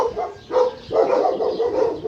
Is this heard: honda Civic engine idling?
no